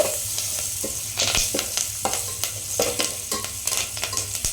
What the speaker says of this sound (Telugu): శనగపప్పు పచ్చిమిర్చి కరివేపాకు వేసుకొని బాగా ఫ్రై చేసుకోవాలి